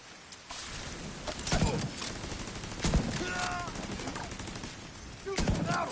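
Repeated bursts of automatic gunfire and sharp shots from a firefight in The Division 2, set in a museum, loud and continuous with occasional heavier cracks and faint background voices.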